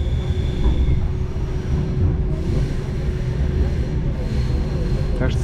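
Steady low rumble and rattle of a single-car passenger train hauled by a 2TE10U diesel locomotive on the Samara–Buzuluk line, heard from inside the carriage as a continuous, even roar with no break.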